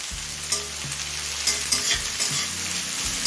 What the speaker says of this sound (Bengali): এখন দিচ্ছি কিছুটা গোটা গরম মশলা